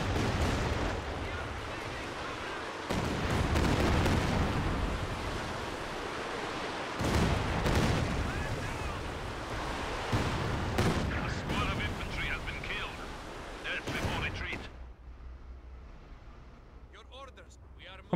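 Artillery and gunfire in Company of Heroes 2 around Stalingrad, several loud booming blasts a few seconds apart over a continuous crackle of small-arms fire, with someone speaking at times, fading to a quieter bed near the end.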